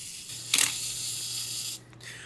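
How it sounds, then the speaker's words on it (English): A Pentax SV film camera's self-timer winds down with a steady mechanical buzz and ends in a crisp shutter release, close and clear with no talk. "The self-timer will wind down, trigger the shutter at the end, and you have done a self-timer exposure."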